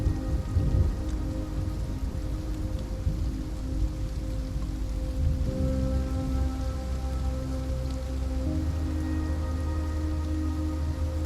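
Heavy rain pours steadily onto the ground in a continuous dense hiss with a low rumbling undertone, loud and unbroken throughout with no voices.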